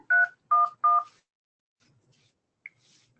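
Three quick touch-tone beeps sound in even succession as a number is dialed on a phone, followed by a pause and one short fainter tone, close and clear over near silence.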